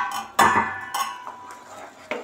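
A spoon clinks and scrapes in a pot while ghee is stirred into a Mysore Pak mixture, a few sharp metallic knocks spread over a couple of seconds.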